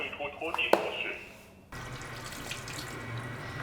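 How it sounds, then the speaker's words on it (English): Water pours noisily from a container into the refill tank of an Airbot A700 robot vacuum's self-cleaning dock, splashing for over a second before the flow stops and a quieter steady trickle follows. "So I'm gonna take out the mop pad and fill up the water."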